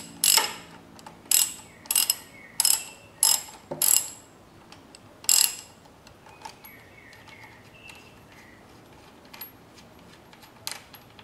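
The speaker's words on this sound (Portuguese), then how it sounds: "Aí soltando a porca e a arruela de um lado." A ratchet wrench loosens the nut and washer on the handlebar riser of a Yamaha XV 250 Virago motorcycle: a quick run of close, sharp clicking bursts, then one more burst and a few faint clicks and taps.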